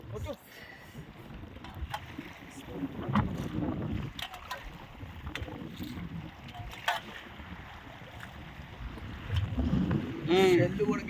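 A boat on a sea journey, with water splashing in over the sides, makes a steady low rumble with gusty wind buffeting throughout and a louder surge near the end, while people talk over it.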